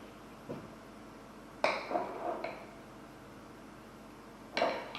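While coconut flour is measured out, a spoon clinks sharply against a bowl or cup three times: once faintly, then two louder metallic knocks with short rings, set in a quiet kitchen.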